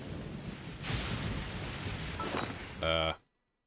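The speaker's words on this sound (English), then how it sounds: "It's raining." Rain with rumbling thunder in a video game, a steady wash of noise with a swell near one second, ending in a brief harmonic chime before cutting to silence.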